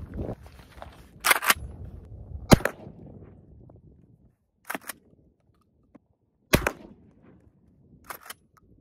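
A Kel-Tec KSG 12 gauge bullpup shotgun fires several sharp, loud blasts at a range, spaced irregularly with quieter handling noises between shots.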